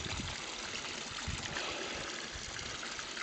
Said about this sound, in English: there's a solar panel providing electricity to a bilge pump from a boat, and that's supplying my water for nothing